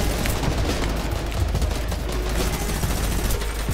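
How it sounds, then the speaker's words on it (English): Minigun fire in Fortnite, a dense continuous rattle of rapid shots roaring loud and close for several seconds without pause. "No, we usually use mini gun out here."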